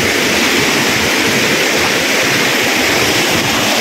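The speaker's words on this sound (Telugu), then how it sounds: "ఇంకా అక్కడి నుంచి నడుచుకుంటూ పోతే మనకు జలపాతం అయితే కనపడుతుంది." Waterfall in the Udayagiri hills during the rainy season, its water rushing as a steady, loud, continuous roar that fills the whole moment close by, with no talking.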